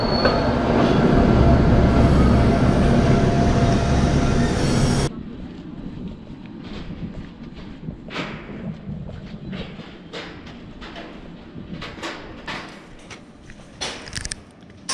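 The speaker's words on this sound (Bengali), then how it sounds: "আরেকটা ট্রেন গেল।" A Gornergrat mountain train passes near the Matterhorn. Loud, broad rolling rumble for about five seconds is followed by quieter rail noise with scattered clicks and squeals.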